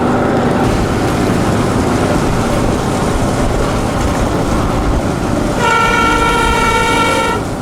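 A double-headed train on a line in Largo, Florida, rumbling steadily and loudly up close, then sounding a long sustained multi-tone horn near the end.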